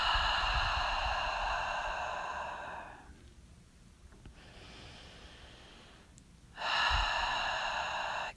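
Slow, deep yoga breaths while lying flat on the floor: a long airy exhale, a quieter pause, then another strong breath, close and soft with no talk.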